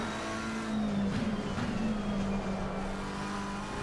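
A race car engine in the Assetto Corsa video game drones steadily, then swells as the throttle is punched, with the revs rising and holding in one continuous, close engine tone.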